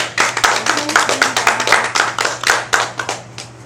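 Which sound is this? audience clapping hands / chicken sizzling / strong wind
audience clapping hands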